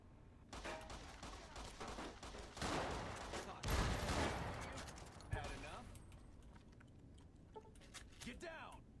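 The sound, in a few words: shotgun fire in the video game Fallout: New Vegas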